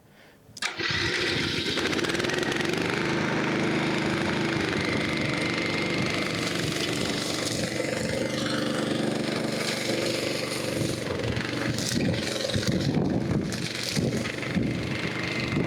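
A remote-control lawn mower's small petrol engine fires up abruptly after a quiet moment and keeps running loud and close at a steady buzzing drone, with slight fluctuations toward the end.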